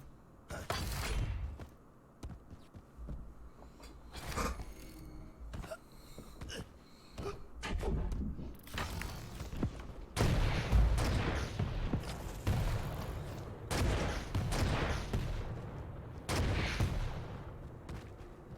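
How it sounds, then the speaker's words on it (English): Rocket launcher fire in a Quake duel, heard as repeated loud bursts and blasts spread irregularly through a busy stretch of combat, with denser explosions in the second half. "He's just trying to keep him at bay here with these rockets."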